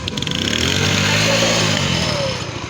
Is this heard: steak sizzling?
no